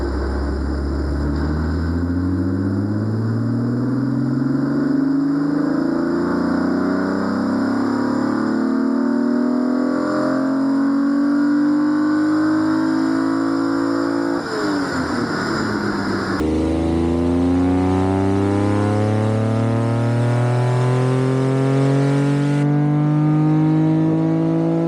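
A Reliant Scimitar with a Vauxhall X30XE V6 engine revs up through the gears on a rolling road dyno, pitch climbing repeatedly in long pulls with brief drops at each shift, loud and close throughout.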